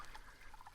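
Water trickling through a wet, rain-soaked forest along a woodland trail, a soft continuous babbling with faint drips, steady and fairly quiet with no voices.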